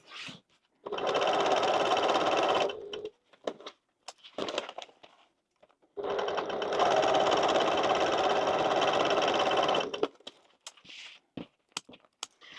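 A sewing machine topstitches 3mm from the edge along both sides of a butterflied seam on a bag base, running in two long steady bursts with short pauses and small handling noises between them.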